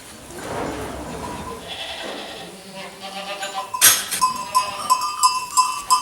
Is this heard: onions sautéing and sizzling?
no